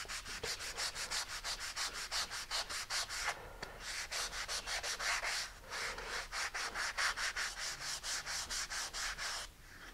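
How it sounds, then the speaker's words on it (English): Fine grit sandpaper rubs back and forth over model rocket tail fins in quick, even strokes, a close, steady rasping rhythm with two brief pauses. "So now I'm just going to smooth everything out again with this fine grit sandpaper."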